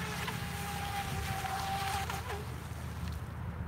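Atomik Barbwire 2 RC boat running on a lake, a steady motor whine with a high pitched tone holding then shifting as it cuts hard, with water wash underneath throughout.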